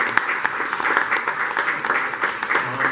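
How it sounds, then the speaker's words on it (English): A small audience claps steadily at a tech meetup about blockchain companies, a brisk burst of applause heard up close with no talking over it. "Big round of applause."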